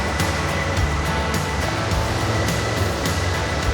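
Water rushes steadily through a channel feeding a swimming pool at Dalitiwan Resort in Majayjay, Laguna, a loud continuous broadband roar with faint rhythmic ticking close by.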